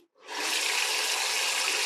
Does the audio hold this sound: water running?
yes